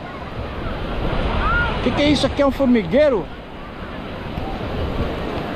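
Atlantic Ocean surf breaks steadily on a busy beach at Praia Grande on the São Paulo coast, a continuous wash of waves and wind under a man's nearby speech.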